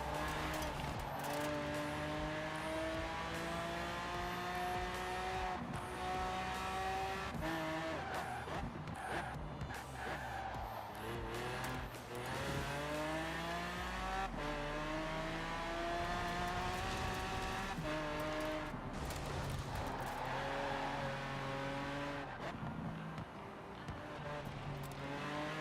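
A Lamborghini Aventador J in Forza Horizon 4 revs and shifts through gears, its engine note climbing and dropping repeatedly with brief tire squeals, loud and continuous with no talking.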